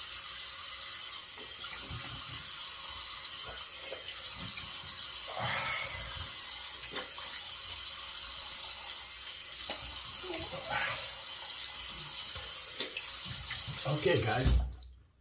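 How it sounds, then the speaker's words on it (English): Tap water runs steadily into a sink while the face is rinsed after shaving, a continuous close splashing stream with brief louder splashes and a short clatter at the end. "we'll rinse the face here"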